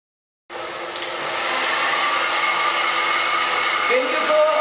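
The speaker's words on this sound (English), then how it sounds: "I'm going to go directly to the blow drying." A hair dryer switches on abruptly and blows with a steady, loud whooshing hum while blow-drying hair for volume, continuing without pause for several seconds.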